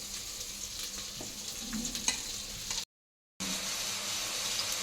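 Cut bottle gourd and radish go into a hot pan of seasoning and fry with a steady close sizzle and occasional stirring, broken by a brief silent gap, and no voices are heard.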